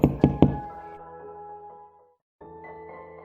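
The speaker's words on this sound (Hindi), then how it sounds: "और दरवाज़ा खटखटाया।" Three sharp knocks on a wooden door in a 2D animated Hindi story, close and loud, followed by a sustained musical tone that fades, then resumes after a brief silence.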